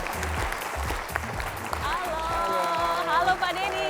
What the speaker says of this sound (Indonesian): Berikan tepuk tangan untuk beliau.